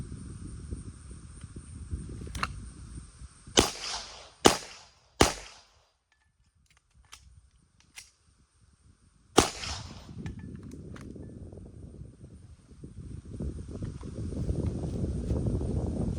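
Several sharp gunshots crack out at a cardboard target, about four loud reports in quick succession and another a few seconds later, each ringing briefly over low outdoor background noise.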